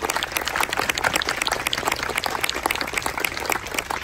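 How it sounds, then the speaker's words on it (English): An outdoor crowd at a trail grand opening applauds for the assistants, a steady, lively patter of many hands clapping that lasts the whole stretch. "Could I have a round of applause, please, for the assistants?"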